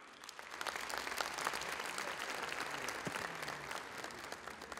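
Steady applause from delegates filling a hall at a political party congress, a broad continuous patter of many hands heard from some distance, fairly quiet and unbroken.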